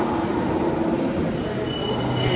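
A Sydney train departs Town Hall station platform, its wheels squealing loudly and steadily with a continuous rolling rumble of rail cars close by.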